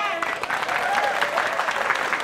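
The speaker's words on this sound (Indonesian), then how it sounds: "Tepuk tangan dulu dong." A group of women applauds in a lively Indonesian variety show set in a neighbourhood food stall, producing brisk, moderately loud clapping mixed with voices and cheerful chatter.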